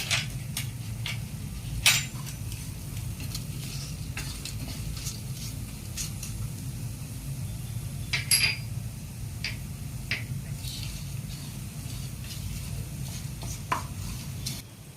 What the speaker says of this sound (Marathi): हा सगळा मसाला बऱ्यापैकी भाजलेला आहे सुगंध सुटला आहे मसाल्याचा